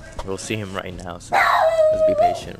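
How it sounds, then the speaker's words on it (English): A pet dog at home lets out a drawn-out whining howl that rises and then holds a steady tone, starting partway through as someone talks over it. "That's my dog barking."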